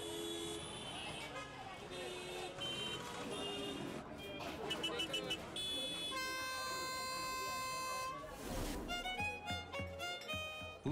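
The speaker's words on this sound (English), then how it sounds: "Big horns and small horns of every size and note." Vehicle horns honk repeatedly amid busy street traffic in Mumbai, India, some long sustained blasts and shorter toots, mixed with a voice speaking over the noise.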